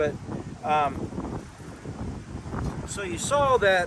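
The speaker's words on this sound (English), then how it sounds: "It's windy out here this morning." Wind blowing outdoors on a cool morning, gusty rumbling buffets against the microphone rising and falling, with a person talking briefly and a bird chirping in the background.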